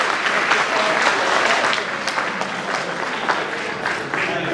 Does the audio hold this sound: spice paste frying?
no